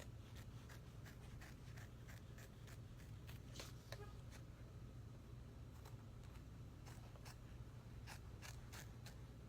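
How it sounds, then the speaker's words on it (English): Scissors snip repeatedly as fabric is trimmed close to an embroidered sewing line on an old-embroidery patch, crisp irregular cuts over a steady machine hum. "And then I'm just going to trim really close to my sewing line."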